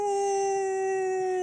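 A person imitates a wolf howl with a single sustained, steady tone that holds strong and clear for over a second, close and loud with no other sounds.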